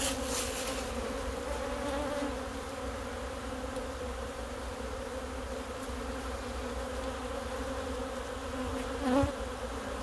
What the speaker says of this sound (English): Nice calm bees in the wintertime when you take their nest completely apart.